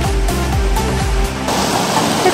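A mountain river in Ticino rushes with loud, steady broadband roar, dense and continuous throughout with some low rumbling from wind or handling in the first part.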